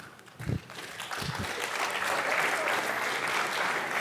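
Audience applause at an award ceremony for the POPRI 2024 competition finale, starting with a few scattered claps and quickly building into sustained, dense clapping from the crowd.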